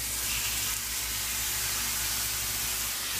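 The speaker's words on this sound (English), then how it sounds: "Sizzling chicken." Steady, dense sizzling of chicken frying in a hot pan, a continuous close hiss with no talking.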